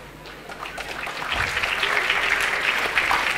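Audience applause at a business talk by a wind energy company's development head, broadband clapping swelling from moderate to steady and full over a few seconds, with no speech over it.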